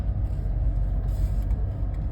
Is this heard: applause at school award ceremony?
no